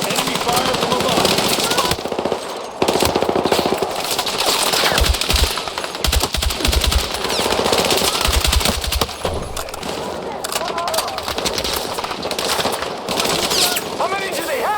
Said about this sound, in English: Enemy fire from above.